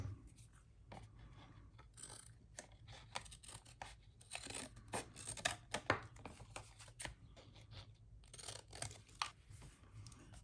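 Scissors trim fabric in a quiet sewing session, giving faint, irregular snips and rustles close by against a low background hum.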